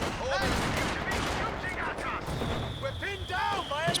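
Machine gun fire in a Company of Heroes 2 2v2 battle, bursts of rapid shots crackling steadily through the clip amid other game noise and whistling effects.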